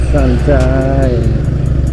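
Motorbike engines idle and rumble close by in slow traffic congested by roadworks on the Pantura road, with someone talking over the steady drone.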